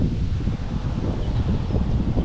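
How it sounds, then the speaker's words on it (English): Strong wind buffets the microphone along a trail beside the Erie Canal, a steady low roar with gusty rustling throughout and no other sounds standing out. "It's getting too windy for the other camera heading in this direction."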